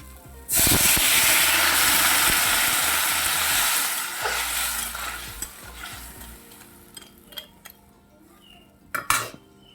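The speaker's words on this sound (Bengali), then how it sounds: "এখন আমি পরিমাণ মতো জল দিয়ে দিচ্ছি" Water poured into a village-style crab curry frying in a pan bursts into a loud, close hiss that gradually fades, followed by a few sharp clinks and scrapes of a utensil against the pot.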